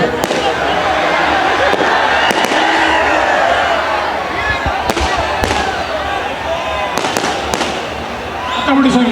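Sharp firecracker bangs go off at the Karaga festival rally in Ramanagara, a few loud, sudden cracks spaced apart amid a constant crowd din and amplified speech.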